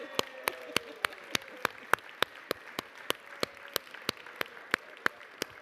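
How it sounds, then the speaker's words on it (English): A round of applause in New York City Council chambers at City Hall, greeting two newborn babies, with sharp claps landing in a steady rhythm at moderate volume, and a faint background voice. "So we give a round of applause to baby Sanchez and baby Gutierrez"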